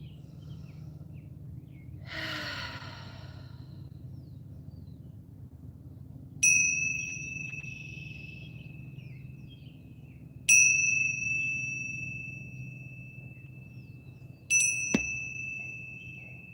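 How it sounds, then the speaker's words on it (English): Three bright metallic chimes ring out at close of a meditation, each a clean struck tone with a long ringing decay, evenly spaced several seconds apart over a soft room hum, with a brief breath heard before them. "I want to close out the space with just 3 chimes"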